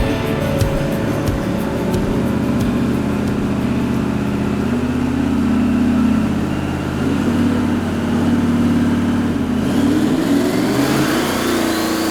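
A heavily modified car engine drones steadily and loudly through a boosted power run, holding a sustained high-load roar with shifting pitch, no voices over it.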